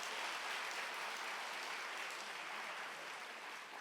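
A church congregation gives thanks to a visiting missionary with soft, continuous clapping that sounds distant and fairly faint, holding steady for a few seconds.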